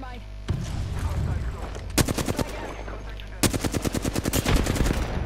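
Gunfire in the Apex Legends Arenas video game: two sharp volleys of rapid automatic shots cut through background game noise, the second burst longer and louder, with a single crack between them.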